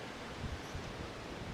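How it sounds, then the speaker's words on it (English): Wind blows outdoors by a beehive on a windy day, a steady broadband rush of gusting air buffeting the microphone, with no other clear sounds. "and it is a windy day."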